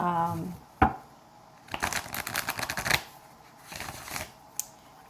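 Tarot cards being shuffled close up in crisp riffling bursts with pauses between them, then a few single snaps as cards are drawn, and a voice speaks briefly at the start.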